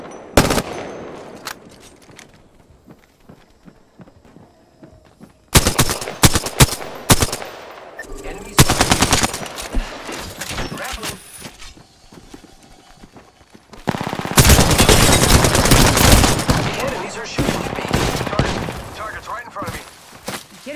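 Gunfire in the video game Apex Legends, loud bursts of rapid automatic fire in several clusters separated by quieter gaps, with a voice speaking between them.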